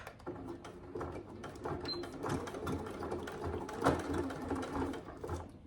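Domestic sewing machine stitching a fabric wash bag at slow speed, a soft rapid mechanical chatter that runs steadily and fairly quietly throughout.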